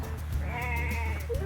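A sheep on a farm gives one drawn-out, wavering bleat, close and clear, lasting about a second over quiet background noise.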